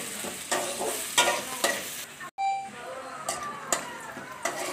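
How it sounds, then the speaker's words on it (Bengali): Chopped onions frying in a pan for a Bengali fish-head and cabbage dish, a soft sizzle broken by repeated scraping stirs and a brief dropout midway, fairly quiet and close. "পেঁয়াজ কুচি লাল করে ভেজে নিতে হবে।"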